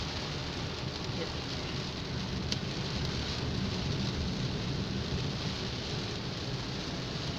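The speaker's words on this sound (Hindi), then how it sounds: "इतनी तेज़ बारिश होना शुरू हो गई है एकदम से।" Heavy rain pours steadily on a car driving through a downpour near Murree, Pakistan, a dense continuous hiss with low rumble throughout, loud and unbroken.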